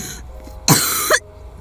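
A single sharp cough from an adult down with a cold, close and loud, bursting out briefly against a quiet background.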